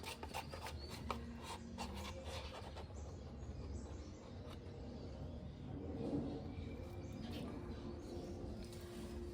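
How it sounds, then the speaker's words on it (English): Resin scraped out of a mixing cup into a mold, a soft continuous rubbing and rasping close by with small irregular scrapes and no talking. "Just give it a bit more of a scrape."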